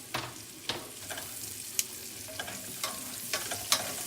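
Asparagus sizzles in bacon fat on a flat-top griddle, a steady crackling fry broken by sharp spatula scrapes and clacks every second or so, close and fairly loud with no talking.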